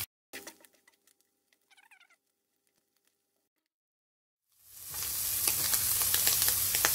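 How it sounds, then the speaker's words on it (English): Lasagna ingredients caramelizing in a pan as they are stirred: a quiet stretch with faint clicks and a brief squeak, then a loud, dense sizzle swells in and crackles steadily. "We just want to caramelize it to give it that taste."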